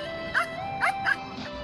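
Small dogs kept to chase water birds off a crayfish pond give three or four short, sharp yapping barks in quick succession, fairly close against a steady background hum.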